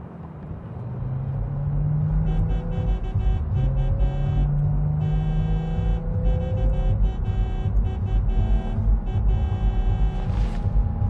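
Car engine humming steadily while driving through the streets in Cyberpunk 2077, a continuous low rumble with shifting tones running the whole stretch at an even, fairly loud level, no talk over it.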